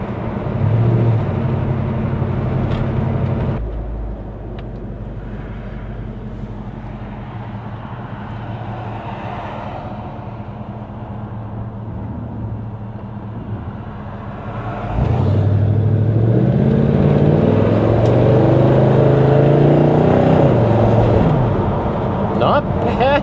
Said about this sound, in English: We'll get some exhaust noise.